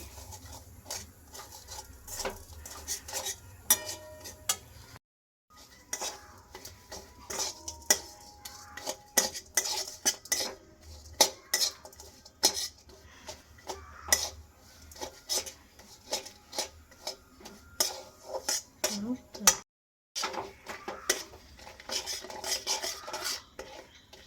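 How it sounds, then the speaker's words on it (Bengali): Sugar melting in a pan while a spoon stirs it, with repeated close metallic scrapes and clinks in an uneven rhythm over a faint sizzle and two brief silent pauses. "চিনিটা নাড়াচাড়া করতে করতে কিন্তু অনেকটা গলে গেছে"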